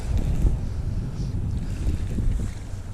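Strong, cold wind buffets a bass-fishing boat on open water, a loud, continuous low roar and rumble lasting the whole moment with no talk.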